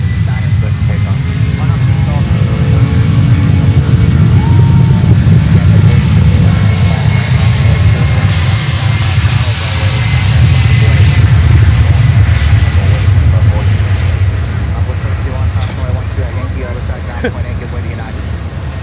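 A cargo airplane takes off from runway 9 at Miami airport, its engines making a loud, sustained roar that swells and then eases slightly as it climbs, with no talk over it.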